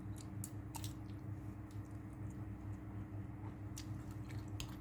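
People eat curry nearby, giving soft, faint chewing and crunchy bites in scattered clicks over a steady low hum.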